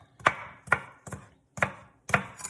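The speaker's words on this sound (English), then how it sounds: "I'm just gonna chop it like that, just a little rough chop" A knife rough-chops asparagus on a cutting board, five distinct, fairly crisp thunks spaced about half a second apart. The cuts are close and moderately loud, with near silence between them.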